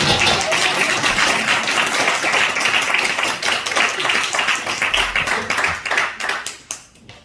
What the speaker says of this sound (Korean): 우리 다 같이 박수 한번 쳐주세요